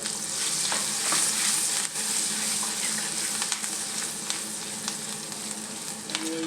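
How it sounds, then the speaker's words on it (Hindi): Curry leaves, whole round red chilies, green chilies, coriander and cumin sizzle hard in hot fat for a dal tadka, a continuous loud crackle with scattered sharp pops close by, with no talk. "तड़का इसमें डाल दूँगी।"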